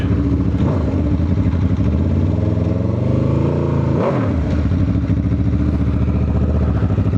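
An Aprilia RSV4 motorcycle engine runs loud and close while being ridden, a steady deep growl that dips and climbs once in pitch partway through as the throttle changes.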